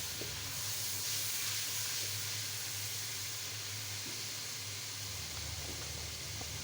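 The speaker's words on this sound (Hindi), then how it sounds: "थोड़ी देर बाद इसमें हम अदरक लहसुन का पेस्ट शामिल करेंगे और इसको 1 से 2 मिनट तक पकाएंगे" Ginger garlic paste fries with green cardamom in hot oil for a chicken kofta curry, giving a steady, faint, even hiss and sizzle throughout.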